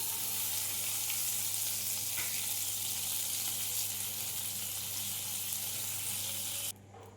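Butter melting in a hot wok (kadai) gives a steady, even sizzle with no voices over it, and the sound cuts off abruptly just before the end.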